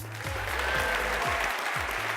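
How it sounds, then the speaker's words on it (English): Audience applause for an event MC at a 2013 conference, a dense steady wave of clapping sustained throughout, with a low droning tone underneath. "I'd just like you all to please give a huge applause for your phenomenal MC today, Rob Gilmore."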